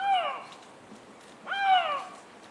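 Eurasian lynx in heat giving two drawn-out, descending wailing calls, tonal and meow-like, each about half a second long and separated by a brief pause, fairly close and clear against quiet surroundings.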